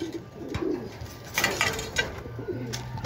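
A pigeon coos softly nearby, a few low throaty calls spaced out, with faint bird chirps and rustling around them.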